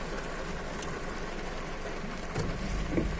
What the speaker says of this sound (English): So had tea and it started raining all of a sudden.